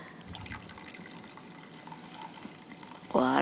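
Water poured into a cooking pot for Vietnamese nems, heard as faint trickling and splashing under kitchen clatter, ending with a brief louder gurgle of liquid.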